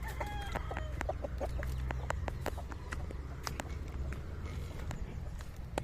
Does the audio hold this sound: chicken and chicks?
yes